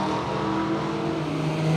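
A Holden VT Commodore drag car, a Berlina, roars down a drag strip at Willowbank Raceway in a loud, steady engine drone with rising tone, close and continuous with no talk.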